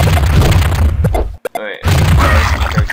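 Paratrooper weapon explosions in the 2007 game Open Liero X: several sharp booms and crashing bursts over a rumbling backdrop, cut by a brief near-silent gap before the noise returns.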